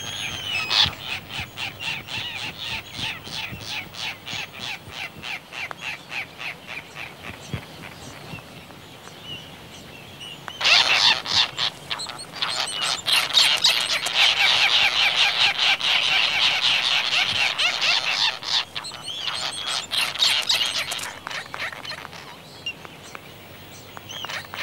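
A colony of fairy terns calls continuously with harsh, raspy, rapid chattering that grows louder and denser midway, many birds nearby and no voices.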